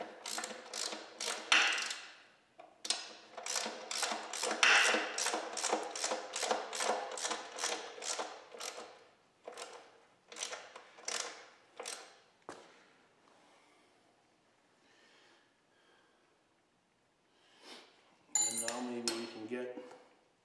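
A ratchet running down bolts on the hog's head of a Model T Ford transmission, rapid clicking strokes in bursts, close and crisp, then pausing and a metallic rattle near the end, with someone talking intermittently.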